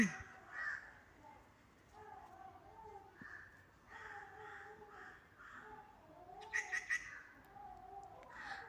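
Crow caws ring out near a house in a residential area, moderately loud calls coming in short groups, with a cat-like cry among them and no speech.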